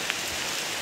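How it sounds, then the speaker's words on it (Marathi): Rain falling outdoors, heard as a steady, even hiss of drops on surfaces throughout a brief moment, with no voices. "पाऊस पडतोय"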